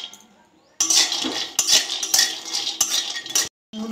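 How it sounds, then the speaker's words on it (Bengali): Peanuts dry-roasting in a pan, stirred in repeated bursts that give loud close rattling and scraping of the nuts and utensil against the metal, with brief pauses between strokes. "বাদামগুলো ভেজে নেবো।"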